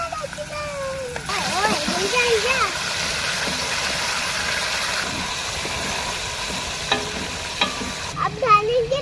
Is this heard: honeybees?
no